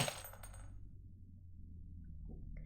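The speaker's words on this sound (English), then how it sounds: "You smash the bucket, sending nails flying down various floor holes." A bucket of nails smashed in the Dread Weight video game, with a bright metallic scatter and clatter at the start that quickly dies away into a low, quiet hum.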